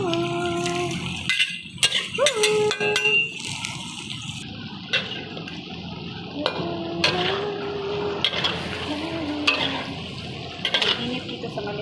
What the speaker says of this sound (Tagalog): Haluin mabuti.